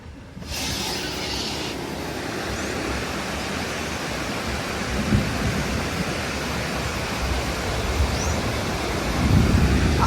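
Heavy rain pours down steadily beside a rising river on a dangerous Colombian mountain road, a dense, loud, unbroken hiss that lasts throughout with no voices.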